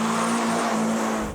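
A Renault Clio 172 on standard Avon tyres pulls away on a handling circuit, its engine droning loud and close at a steady pitch as it accelerates.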